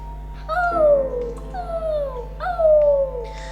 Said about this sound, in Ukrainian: Аж раптом його спогади перебило чиєсь скавчання.